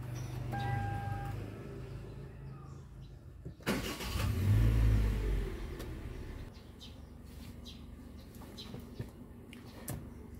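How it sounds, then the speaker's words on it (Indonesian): A car engine cranks and catches, surging briefly with a loud low rumble before settling into a quiet steady idle, with a few faint clicks and distant birds. "Saya akan menyalakan mesin mobil dulu."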